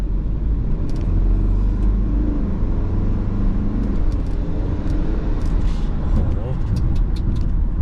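Inside a 2017 BMW 320d F30 diesel driven in sport mode, a steady, heavy low engine rumble runs under someone talking throughout.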